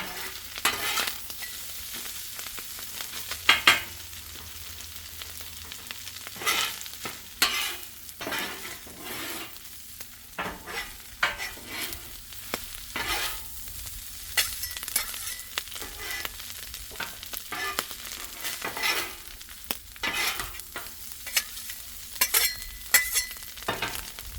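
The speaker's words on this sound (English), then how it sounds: "There we go. Mixing it all in." Bacon fried rice being stirred in a hot pan, a steady sizzle broken by repeated scraping and clattering stirs, close and fairly loud throughout, with no talking.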